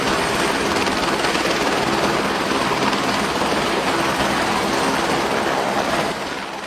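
Loud, continuous roar of a military helicopter engine and rotors, steady throughout and fading slightly at the end.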